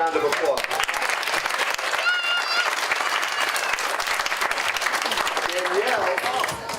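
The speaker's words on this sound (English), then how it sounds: "How about if we all give Danielle a round of applause?" A room of people at a summer reading and exercise program ceremony gives a lively round of applause, steady clapping with a few voices and cheers mixed in, tapering off at the end.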